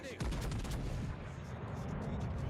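Heavy battleship gun salvos boom out in the naval combat game World of Warships Legends, a dense rumbling barrage of blasts with sharp reports at the start fading into a sustained roar.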